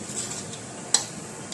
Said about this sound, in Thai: ให้เหลืองหน่อยๆดูอย่าให้ไหม้นะคะ นะนี่เป็นกระเทียมเจียวนะคะ